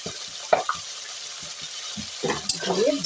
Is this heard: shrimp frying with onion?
yes